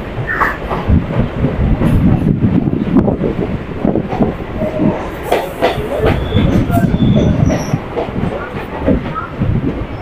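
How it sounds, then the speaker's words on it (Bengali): A local train on the Sealdah–BBD Bag line pulls into Ballygunge Junction station, steady loud rumble and rattling wheels on rails with brief squeals, continuous and close throughout. "আর আমাদের ট্রেনটি এখন বালিগঞ্জ জংশন স্টেশনে ঢুকছে।"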